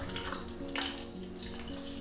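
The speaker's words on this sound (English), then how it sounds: "So I'm gonna pour my chemicals." Cinestill Monobath film developing chemical poured at a desk makes a steady liquid trickle with small splashy bursts, close and fairly soft against a faint background hum.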